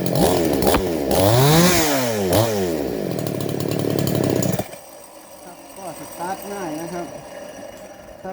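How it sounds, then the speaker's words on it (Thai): A 5200-class chainsaw engine, freshly rebuilt with a new crankshaft, starts and revs loudly in rising and falling bursts, then drops to a lower, uneven idle near the mic. "เราจะลองสตาร์ทเครื่องดูนะครับ"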